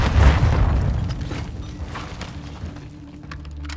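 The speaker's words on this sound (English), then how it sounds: "Grenade out." A grenade blast in the video game Call of Duty DMZ booms loud and low at the start, then a rumbling decay trails off over a few seconds amid game noise.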